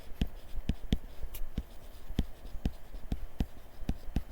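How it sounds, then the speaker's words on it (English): Pen strokes on paper while hand-writing notes in a physics lesson, a series of sharp, close scratching taps in an irregular rhythm, about a dozen distinct strokes. "let me just write it down over here"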